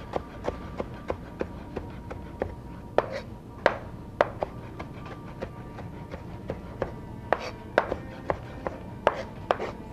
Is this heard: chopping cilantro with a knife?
yes